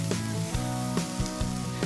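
Lemongrass, garlic, shallots, minced chili, onion, ginger, annatto powder and curry powder sizzle in annatto oil in a pan, a close, steady crackling hiss broken by repeated soft knocks of stirring.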